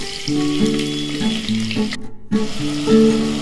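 Peanuts and then garlic frying in overly hot oil for soybean khichadi, a loud close crackling sizzle that cuts out briefly before resuming just as strong.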